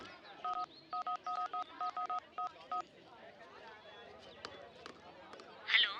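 A telephone being dialed, a quick run of about a dozen bright key tones in short bursts, followed by faint rustling and handling noises.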